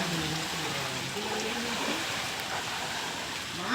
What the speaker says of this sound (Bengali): এখনো বৃষ্টি হচ্ছে, এখনো বৃষ্টি থামেনি, বৃষ্টি হচ্ছে।